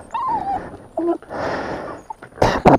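A dog gives a couple of sharp barks and high whimpering yelps in bursts, close by, with rustling and shuffling noise between them and no talk over the sounds.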